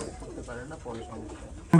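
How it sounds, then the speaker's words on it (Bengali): Golden pigeons with red eyes at a pigeon farm coo in low throaty rolls close by, mixed with murmuring voices, ending in a sudden loud burst of noise. "এই জোড়া কি কবুতর ভাই এটা হলো গোল্ডেন কবুতর"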